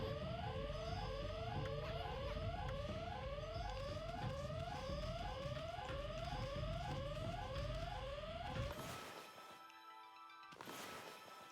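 Repeated ringing alarm bells from the video game Okami, a rapid rhythmic pattern of bright descending tones sounding steadily for about eight seconds before cutting off, followed by quieter game ambience.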